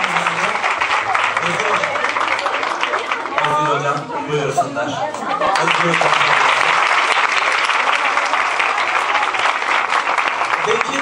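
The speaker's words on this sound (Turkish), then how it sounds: "Ali Can Salman hocamıza bir alkış alalım" A crowd at a school commemoration event applauds teachers in dense, loud continuous clapping, briefly easing while someone speaks over it, then swelling again to full strength.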